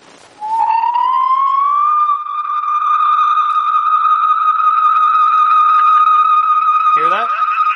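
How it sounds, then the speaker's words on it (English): A mobile phone on speakerphone held near a house phone sets up acoustic feedback: a loud, steady electronic tone that rises in pitch over the first two seconds, then holds, with harmonics stacked above it and a warbling burst near the end. "It's basically just a feedback sound."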